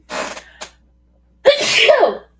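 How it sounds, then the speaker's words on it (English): An allergy sneeze: a short breathy intake and catch, a pause, then one loud, close, explosive sneeze with a voiced tail. "I gotta sneeze again, y'all."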